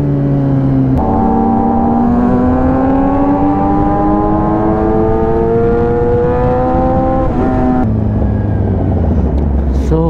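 Kawasaki H2 and ZX-10R superbikes rev hard on an expressway Sunday ride, with rising engine harmonics climbing steadily and a sharp shift near the end, loud and close over heavy wind rumble.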